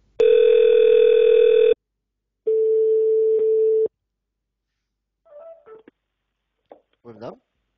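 A telephone line gives two long steady tones after a call drops, a loud sustained one then a shorter repeat, followed by faint brief chirps and a short voice near the end.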